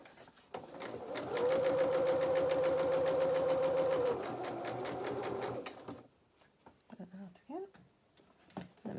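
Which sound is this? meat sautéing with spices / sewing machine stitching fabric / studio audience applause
sewing machine stitching fabric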